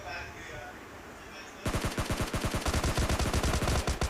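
Rapid automatic gunfire in the mobile shooter PUBG Mobile Lite with an MK14 or S12K, bursting in loud and close after a quiet stretch and continuing as a dense run of rhythmic shots.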